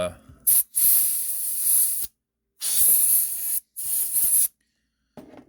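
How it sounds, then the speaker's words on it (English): Canned air sprays in several sharp hissing bursts while an automatic mechanical watch is being built, each blast close and loud and lasting about a second, with short silent gaps between them. "I use lots of canned air on these things"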